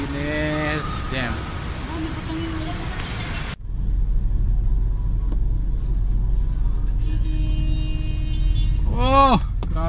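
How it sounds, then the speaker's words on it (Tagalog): Street traffic in Manila's Divisoria rumbles steadily, with engines idling and revving up close, a loud constant drone and a brief horn-like blare near the end. "Oh, grabe traffic."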